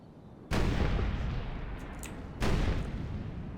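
Two heavy booming cannon shots in a Total War: Warhammer battle, each a sudden loud blast with a lingering rumble, spaced about two seconds apart.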